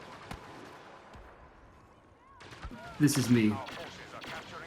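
Blaster fire and explosions from the Star Wars Battlefront video game, with bursts of shots building into a loud, dense cluster near the end, partly under a voice.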